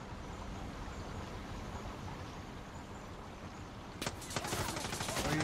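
Shotgun fire in the video game Far Cry 6, a dense, continuous rumble of game gunfire and noise with a burst of heavier blasts near the end.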